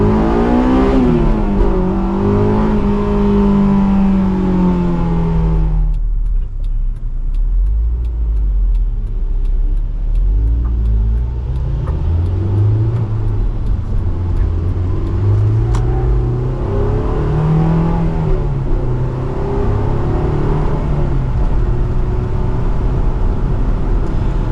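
Honda S2000 engine heard from inside the car while driving, a loud, steady droning rumble with rising and falling rev sweeps as it accelerates, then drops to a lower cruising hum, continuous and close, with no talking.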